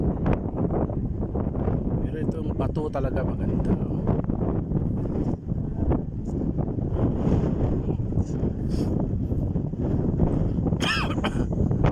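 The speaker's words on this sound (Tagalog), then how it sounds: "Malakas ang hangin eh." Gusty wind buffets the microphone with a steady low rumble throughout at the Lusail waterfront in Doha, Qatar, near a cruise ship, while someone talks over it.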